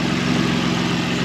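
A Nissan 350Z engine idles roughly, producing a steady, low, close rumble with an uneven pulse and no break.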